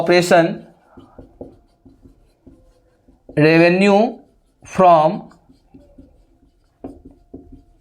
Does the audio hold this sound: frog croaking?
no